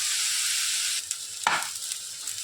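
Leftover rice is stirred into Schezwan fried rice in a hot pan: a close, continuous sizzle with a sharp scraping stir about halfway through, followed by softer frying and light spatula scrapes.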